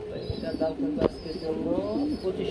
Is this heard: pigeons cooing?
yes